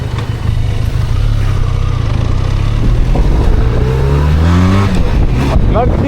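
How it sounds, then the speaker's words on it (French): A 235 kg trail motorcycle's engine accelerates loudly and close up, its rising pitch climbing steadily through the gears with a brief drop and restart near the end, continuous throughout. "le moteur amène très bien la moto."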